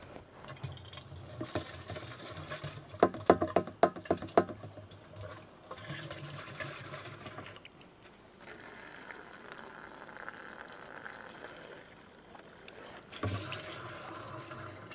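Water running from a hose into a container being filled for scrubbing, a steady splashing wash with a few sharp clanks and knocks early on, moderately loud with no talking.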